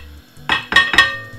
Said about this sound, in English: So now we're gonna put the corned beef